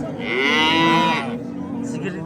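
Cattle at a livestock market, where cows and calves are being sold, give one long, loud moo lasting about a second, close by, followed by a lower murmur of market noise.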